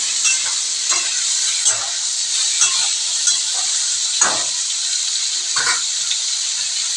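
Ridge gourd slices go into a pan of Bengali bata fish curry with spices, giving a steady frying hiss with soft crackles and a few brief stirring clatters, close and continuous without talk.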